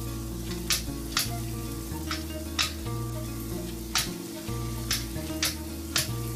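Minced meat with lemon fries in a karahi, a continuous sizzle under a low steady hum, with regular sharp scrapes of a spoon stirring it about once a second.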